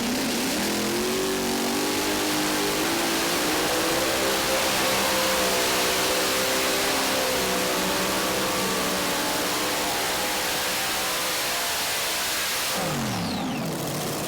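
A pulling tractor with a screw blower, modern chassis and SES gearbox makes a long full-power pass at a truck and tractor pull. The engine roars steadily as it climbs, heard from a distance through heavy broadband noise.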